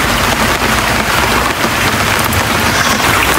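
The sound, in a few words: heavy rain falling during typhoon Enteng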